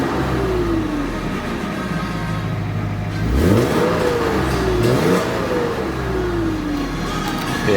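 A Mercedes W202 C36 AMG with its M104 engine and custom exhaust revs repeatedly, the engine note sweeping up and falling back in two or three throaty blips over a steady idle rumble, close and loud.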